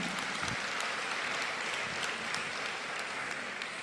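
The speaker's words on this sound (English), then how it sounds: "another round of applause for them" A large audience at an Onam celebration in the Canadian Parliament applauds a dance team, the clapping dense, even and sustained, a continuous wash of hands throughout.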